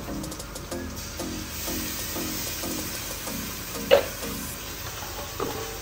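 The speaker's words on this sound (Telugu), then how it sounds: "టేబుల్ స్పూన్ అల్లం వేసుకోండి" Grated ginger sizzles in hot oil with turmeric in a pan, a steady moderate fry with repeated scraping stirs at a regular rhythm and one sharper clink near the middle, no voices.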